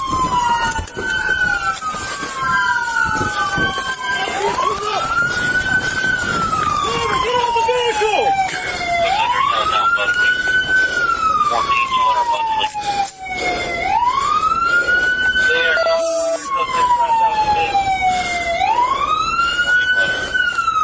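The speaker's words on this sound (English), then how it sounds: "Cut the siren." A police car siren wails loud and close, sweeping up and down in long repeated cycles with a brief yelp burst, while people shout urgently over it during a tense traffic stop.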